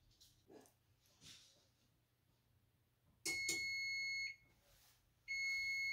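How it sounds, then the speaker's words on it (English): An oven cook timer goes off with two loud, sustained electronic beeps separated by a short gap, after some faint rustling and brief background noise. "When the timer went off"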